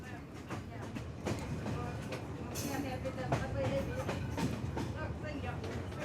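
A steady rumble of a moving train between Shkodra and Tirana, Albania, with rhythmic clacking and occasional metallic squeals, heard from inside a carriage.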